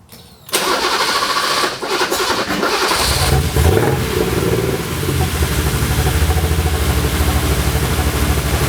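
A BMW 635csi engine with its ignition timing off cranks briefly, catches and settles into a rough, loud, steady idle, heard close up with no talking.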